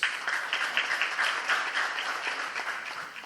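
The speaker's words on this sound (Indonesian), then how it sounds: "Berikan aplaus." Audience applause fills a church wedding ceremony, a steady wash of many hands clapping for about three seconds, fairly loud and sustained with no voices over it.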